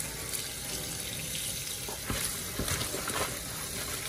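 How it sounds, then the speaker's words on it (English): Cold tap water runs steadily while callaloo leaves are rinsed in a kitchen sink, a constant close splashing rush with irregular sloshes as the greens are handled, and no voices. "And you wash your callaloo with cold water."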